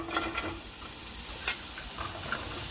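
Olive oil sizzling in a pan already heated beforehand, a steady low frying hiss with a few soft clicks and a brief louder crackle, close and with no talking.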